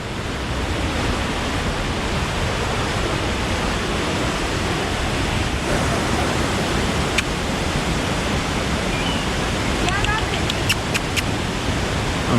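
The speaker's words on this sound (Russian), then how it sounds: "Хочу подойти близко к самому водопаду, чтоб меня намочило водой." Düden waterfall near Antalya, Turkey, roaring up close as a loud, steady broadband rush of falling water that fills the whole stretch without letting up.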